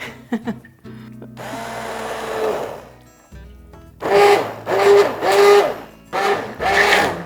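A harmonic motor whine from an immersion blender blending soup, surging in several bursts with short pauses between, close by, with a longer steady run earlier.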